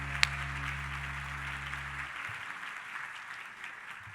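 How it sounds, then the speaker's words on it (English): A roomful of guests at an awards luncheon claps, a broad, steady wash of applause that holds evenly and slowly thins toward the end, fairly quiet and distant with a low hum underneath. "please give them a round of applause"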